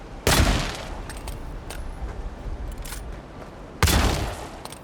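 Two loud gunshots ring out from a first-person weapon in the fantasy video game Avowed, spaced a few seconds apart, with a few fainter clicks and thuds in between.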